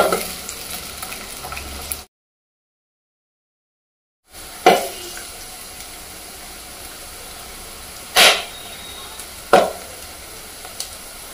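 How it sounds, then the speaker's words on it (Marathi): Corn kernels frying in butter in a half-covered pan for crispy corn, giving a steady broadband sizzle with a few sharp pops and spatters, interrupted by a two-second silent gap, close and with no talk. "कारण हे कॉर्न तळताना सुद्धा बाहेर उडतात।"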